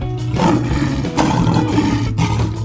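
Loud, drawn-out roar of a lion character in a 3D animal slide game, rumbling for over two seconds above steady game background sound.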